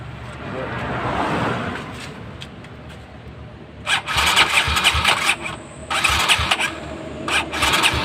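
A Kawasaki KLX150 motorcycle with a newly replaced starter is cranked and fired up, a low rumble followed by bursts of loud, rough engine running close by.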